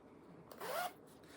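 A zipper on a small fabric floss wallet being pulled open in one quick, quiet rasping stroke, close by, with no talking.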